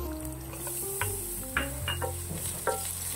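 Garlic sautéed toward golden brown, for ginataang gulay, crackles in a pan with a continuous sizzle, broken by several distinct spatula scrapes and taps against the metal at uneven intervals, close and clear, no speech.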